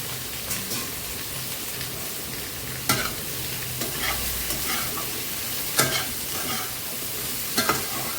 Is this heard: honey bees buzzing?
no